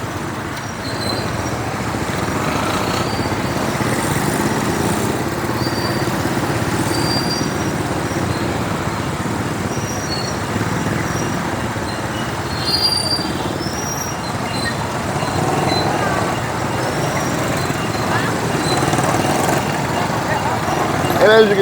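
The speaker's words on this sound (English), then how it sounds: "it's combination of cars, motorbikes, trikes, trucks" Loud, continuous roar of street traffic: cars, motorbikes, trikes and trucks passing on a busy road, steady and close with rumbling engines and occasional squeals, voices faintly mixed in.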